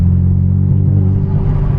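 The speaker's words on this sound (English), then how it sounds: "Some turbo action." Modified Boosted 2.0 turbo car engine rumbles loudly and close, a deep revving drone heard from inside the car during a midnight drive.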